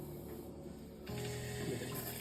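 A bidet attachment's front-wash nozzle turns on, a soft steady hiss of spraying water that starts abruptly partway through and continues quietly, with no talking.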